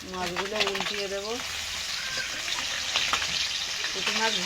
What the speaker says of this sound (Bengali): পুঁটি মাছ ভাজতে বেশি টাইম লাগে না, তাড়াতাড়ি ভাজা হয়ে যায়।